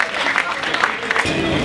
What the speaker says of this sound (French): Et on applaudit l'inauguration de ce T6.